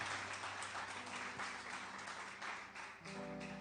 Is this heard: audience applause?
yes